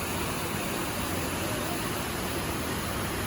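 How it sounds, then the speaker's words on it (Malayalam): Water rushing at a dam in Kerala, a steady, loud broadband roar that fills the whole clip with no pauses and no voices. "വെള്ളം ഒഴുകുന്നുണ്ടോ,"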